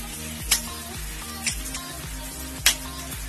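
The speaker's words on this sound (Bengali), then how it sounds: "পেঁয়াজটা বেশিক্ষণ ভাজবো না, যাতে ক্রাঞ্চি থাকে সেই স্টেজ হওয়া অবধি 2 মিনিটের জন্য হালকা ভেজে নেব" Onions frying lightly in a pan for crispy chicken, a continuous sizzle with a few sharp clicks and taps from stirring, close and fairly loud.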